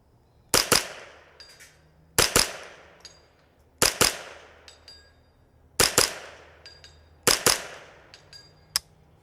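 A Kidd 10/22 rifle chambered in .22LR fires paired double-tap shots at a long-range target. Five sharp pairs of cracks ring out at regular intervals with short metallic echoes, and there is no talking.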